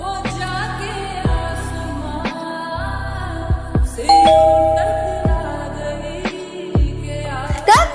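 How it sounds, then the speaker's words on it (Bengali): A home doorbell rings over and over, a rapid series of sharp electronic ding-dong chimes with one held tone in the middle, loud and close, with no talking. "খালি কলিং বেল দিয়ে দৌড় দেয়"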